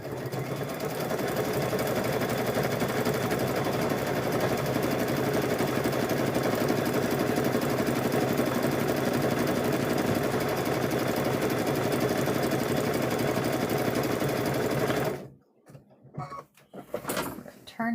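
Sewing machine stitching a patchwork gnome quilt down through batting, a fast continuous mechanical whir running steadily and close for most of the clip, then stopping abruptly into quieter clatter and handling noise.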